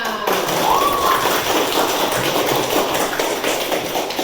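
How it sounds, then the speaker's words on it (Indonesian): A class of schoolchildren claps hands together in a classroom, a loud, dense, continuous patter of many overlapping claps that keeps an even level for several seconds. "Coba tepuk tangan semuanya."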